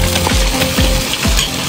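Goose stew with pepper, shrimp and vermicelli cooking in an iron wok, sizzling steadily up close with a few stirring scrapes through the short stretch.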